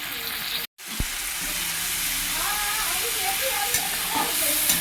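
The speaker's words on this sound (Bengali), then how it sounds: "মশলাটা ভালো করে কষে নেব।" A spice paste of turmeric, cumin and coriander powder fries in a pan with a loud, continuous sizzle. A few stirring scrapes sit over the frying noise, and there is a brief gap near the start.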